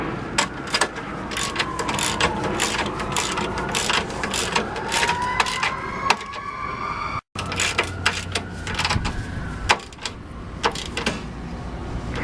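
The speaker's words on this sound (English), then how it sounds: "because it's a large size ratchet" Large ratchet tightening radiator mounting bolts on a 2001 Dodge Caravan 3.3L V6, with rapid, close clicking bursts repeating in quick strokes against a background of faint workshop hum.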